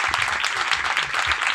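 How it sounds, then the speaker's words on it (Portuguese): Audience applauding the workers of Parque Lage, a dense, even burst of many hands clapping together, close and sustained. "eu peço uma salva de palmas para todas essas pessoas que estão trabalhando dentro do Parque Lage"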